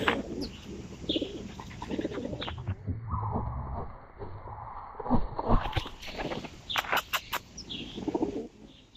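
Park birds calling, with repeated soft pigeon or dove coos and scattered chirps and tweets, close and fairly clear against faint background noise.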